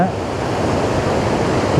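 Sea waves wash over a pebble beach along California's 17-Mile Drive, a steady, loud rush of surf with no clear breaks, heard close up.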